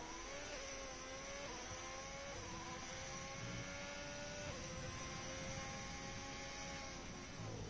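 Formula 1 race cars in a racing video game, faint engine whines rising and falling as the cars pass in quick succession over a steady background roar.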